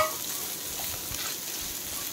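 Chopped coconut fries in ghee with a continuous, fairly loud hiss, mixed with soft scraping as it is stirred in the pan.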